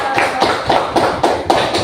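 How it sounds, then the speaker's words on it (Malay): Clapping in a classroom during a lesson: a short run of rhythmic hand claps, about six or seven evenly spaced strikes, fairly close and moderately loud with no talking over them. "tepukan Mirza"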